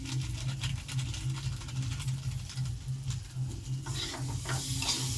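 Green chilli curry with Kashmiri chilli being sautéed and stirred in a pan, a close steady sizzle with repeated scraping strokes of the spoon, brightening into sharper frying crackle toward the end.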